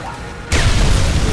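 A TNT explosion in the video game Sniper Elite 3 erupts suddenly as a loud, deep boom, then sustains a broad roaring rumble with no speech over it.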